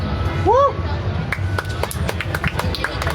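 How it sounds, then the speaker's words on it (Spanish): Scattered hand claps from a small gathering at a talk or lecture, moderately close and irregular, with voices and room murmur underneath throughout. "démosle un aplauso"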